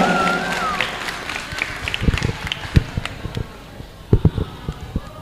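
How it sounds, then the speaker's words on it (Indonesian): Audience applause for speaker Kak Ananda at an alumni sharing session in Surabaya: scattered, uneven claps with sharp isolated hits and some crowd noise, moderately loud, fading out toward the end. "beri tepuk tangan dong untuk Kak Ananda"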